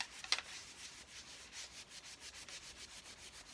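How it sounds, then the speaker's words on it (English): A towel rubs watered-down ebony stain into the body of a Hofner Beatles bass, making a quiet, steady back-and-forth swishing with regular strokes and one brief sharper scrape near the start. "Once you rub it in and then rub it back, you kind of get this like wax on, wax off idea with it"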